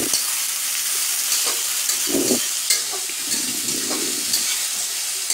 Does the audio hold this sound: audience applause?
no